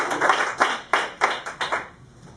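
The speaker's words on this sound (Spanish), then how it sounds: "Denle un aplauso fuerte a la palabra de Dios." A church congregation applauding together after a scripture reading, with a few rhythmic, evenly spaced bursts of clapping that are moderately loud and then fade out, with no voices over them.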